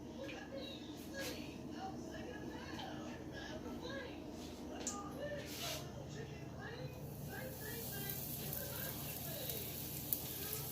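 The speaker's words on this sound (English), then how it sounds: "The oil is already hot, so I'm going to go ahead and get cooking on that." Seasoned, floured chicken sizzles steadily in hot oil, a close, continuous frying hiss with small pops that runs under someone talking.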